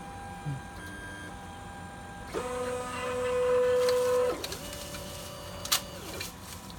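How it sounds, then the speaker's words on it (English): A bioprinter calibrates its nozzle length against a sensor: a steady whirring motor tone starts abruptly, holds for about two seconds, shifts pitch, then runs on more quietly, with faint clicks and a brief knock near the end. "So now it's calibrating the length of the nozzle. and that's gonna calibrate against the sensor."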